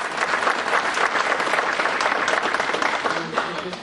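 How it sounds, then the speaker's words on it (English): A graduation ceremony audience for direct support professionals applauds steadily for the whole stretch, a dense, even roar of many hands clapping with faint crowd noise. "let's give him a big round of applause"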